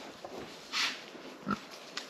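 A pig in woodland grunting a few times, short separate grunts spread over a couple of seconds, fairly faint against quiet outdoor background.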